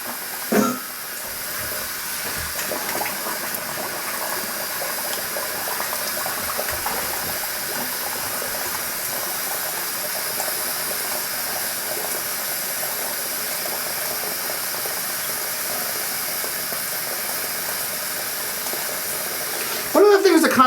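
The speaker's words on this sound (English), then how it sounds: "Let's go ahead and do this cold water rinse." Cold water runs steadily from a tap for a rinse while shaving, a constant close hiss lasting throughout with a few brief knocks near the start and end.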